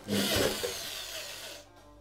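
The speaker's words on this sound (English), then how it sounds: "Smaller tube, smaller drill, smaller hole." A small power drill bores a hole through a small tube of a DIY pressure chamber, a brief loud whirring grind that cuts off abruptly near the end, heard alone.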